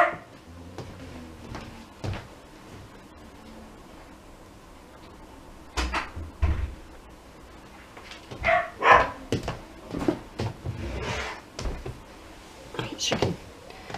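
A dog barks from behind a door in a home craft room, giving a few muffled barks that are partly masked by door and cupboard thumps and by nearby talking.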